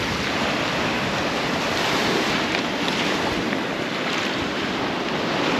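Ocean waves wash steadily onto the Gulf of St. Lawrence shore below towering cliffs in Gros Morne, Newfoundland, a loud continuous surf roar mixed with heavy wind buffeting the microphone.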